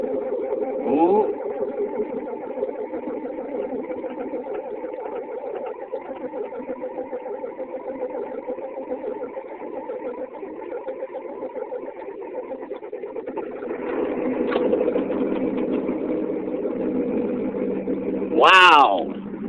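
Engine of a 1972 John Deere 4230 tractor starting from cold, then settling into a steady, loud, close idle with a deep drone throughout, its pitch rising briefly near the end.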